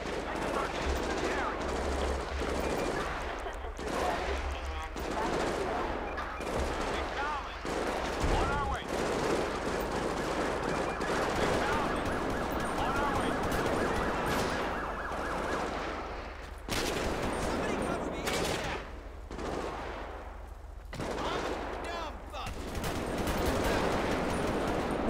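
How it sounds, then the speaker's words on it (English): Repeated bursts of gunfire in the GTA V police mod LSPDFR, sharp shots in irregular volleys spread across the scene, with radio chatter and voices talking over them. "Dispatch, we got shots fired in the area."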